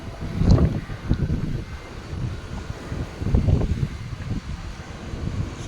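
Gusty wind buffets the microphone in low rumbling bursts that swell and fade, loud and close.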